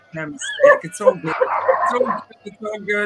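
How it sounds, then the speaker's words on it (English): Dog barking and yipping in a home, a few sharp close barks and whimpers mixed in with a person talking over them. "That's the dog, sorry."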